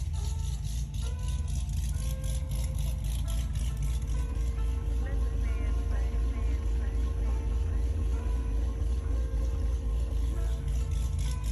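A car engine idles roughly and unevenly, a steady low rumble with rattling and irregular knocks running throughout at close range.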